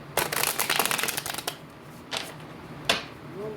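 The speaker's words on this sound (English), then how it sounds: "One more shuffle." A deck of tarot cards is shuffled up close, a quick burst of riffling flutters followed by two sharp, separate card snaps after short pauses.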